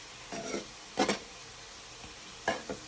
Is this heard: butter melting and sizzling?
yes